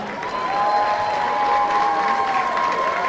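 Audience applause in a hall at a Czech high school graduation ball, clapping for a dance choreographer; steady, dense clapping throughout, with a sustained tonal hum running underneath.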